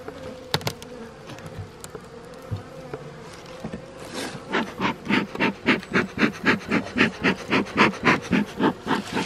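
Dense honeybee buzzing at the brood nest of an open hive, a close continuous drone with a rhythmic pulsing that grows stronger in the second half.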